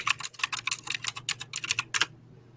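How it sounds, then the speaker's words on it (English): Rapid clattering keystrokes on a loud computer keyboard, close and fairly prominent, in uneven bursts that stop abruptly near the end, with no talking. "My keyboard is obnoxious."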